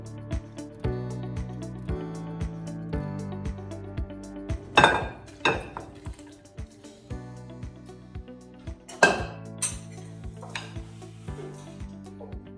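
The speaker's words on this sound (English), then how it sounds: "now I'm gonna transfer the couscous and the tagine into bowls to put on the table" Sweet potato chickpea tagine and couscous are served into bowls, with repeated clinks and knocks of a spoon against ceramic dishes, a couple of louder clattering bursts, and ringing tones between strikes, close and without talk.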